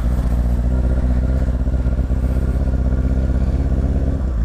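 A carbureted Honda Hornet 600 motorcycle revving, a loud, close, rough engine drone with throbbing low pulses throughout, running alone without talk.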